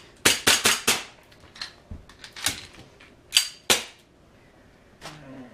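A 1911 replica airsoft pistol fires rapid sharp pops in bursts, with quieter metallic clicks and handling of a magazine change between the shots.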